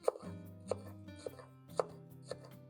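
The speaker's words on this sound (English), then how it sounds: "Cut it up into little blocks." A knife chops smoked paprika sausage into small blocks on a board for a braai-style piri piri chicken dish: five sharp, evenly spaced cuts ring out close and clear over a low background hum.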